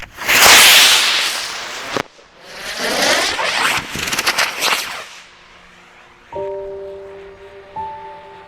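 A redesigned two-stage model rocket built from four Pringles cans launches with a loud, close rushing burst, then a second crackling roar, fading to quieter rustling and ending with a few electronic beeps.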